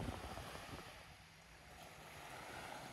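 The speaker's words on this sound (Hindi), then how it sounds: "ये देखें ये ठाठे मारता हुआ समंदर है।" Arabian Sea waves surge in a continuous broad roar with wind buffeting the microphone on the shore near the Qatar–Saudi border.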